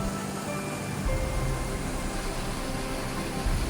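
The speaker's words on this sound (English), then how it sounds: "We came across this little cute waterfall." Small waterfall in south Wales, a constant broadband rush of falling water, steady and fairly close, with no voices.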